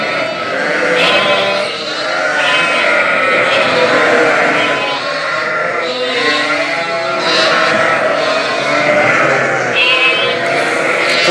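A large flock of Hissar lambs bleats nonstop, many overlapping loud calls rising and falling in waves, close and dense throughout.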